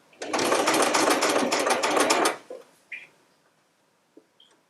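Sewing machine stitching quilt fabric in one steady, close, loud run of about two seconds, then stopping, followed by a few soft clicks and handling taps.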